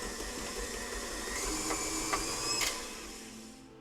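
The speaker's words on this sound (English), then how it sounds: "Just stop your mixer and feel it." A stand mixer kneading damp bread dough for bao buns, a steady motor whir with rhythmic thumps and a couple of sharp clicks before it winds down and stops near the end.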